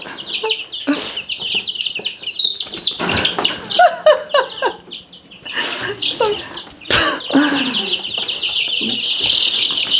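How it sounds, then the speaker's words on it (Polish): Two-week-old chicks flutter and chirp on a floor, giving busy high peeps, brief wing flaps and scrambling near at hand, mixed with a person talking and laughing. "kurczaczki latają po podłodze"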